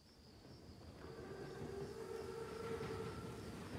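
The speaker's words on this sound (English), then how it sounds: "Train's right on time. Biggest train I've ever seen." An armored WWII Panzerzug train in Call of Duty WWII rumbles in steadily, a low continuous mechanical roar with faint sustained tonal whine building over a few seconds, moderately distant and without voices.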